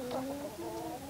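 Young chicks at a pot of leftover adult hen feed cluck and cheep in short, close, overlapping calls that continue steadily.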